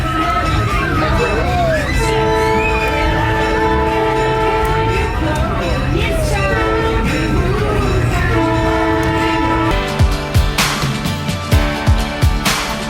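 A toy train running on a track above a heater rumbles along with a tooting whistle amid music and chatter, followed by a series of rhythmic clacks near the end.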